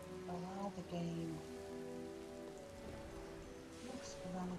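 Even rainfall hisses across a flying video game scene, a continuous wash of drops layered beneath sustained melodic game music chimes, moderately loud and unbroken from start to finish.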